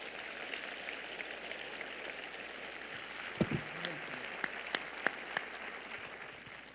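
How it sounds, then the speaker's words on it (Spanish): A church congregation claps for the Lord during a Spanish-language sermon, a steady wash of applause with a few sharper claps and knocks standing out, fairly quiet and distant. "vamos a aplaudirle bien fuerte a nuestro Señor"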